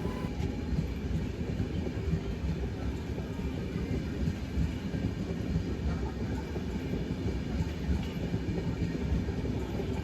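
Train rolling on rails during a Rajasthan rail journey between Chittorgarh and Jaipur, a steady loud rumble with rattling wagon noise running unbroken throughout, no talk.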